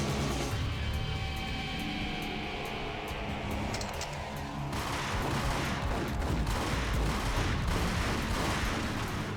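Pistol fire from a Beretta in the video game Max Payne, dense rapid shots crackling over a steady layer of game noise and ambience, loud and continuous throughout.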